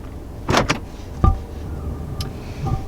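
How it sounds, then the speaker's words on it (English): A short mechanical whir and click from inside a 2022 Toyota Corolla Cross as its electronic parking brake automatically engages, a couple of brief motor bursts followed by a soft clunk, fairly close and quiet. "That was the sound of the electronic parking brake automatically deploying"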